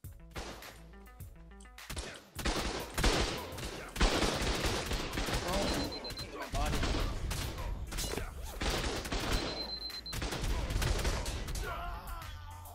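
Sustained turret gunfire during a PVP base raid in ARK, heard as dense, loud, rapid bursts that run almost continuously with only brief gaps.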